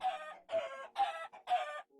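A hen clucks in four quick, evenly spaced bursts, close and fairly quiet.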